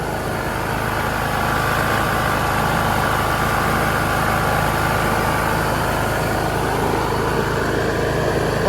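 A Troy-Bilt Pony lawn tractor engine, freshly topped up with oil, runs steadily at a loud, even idle, its close, continuous drone and rattle unbroken throughout.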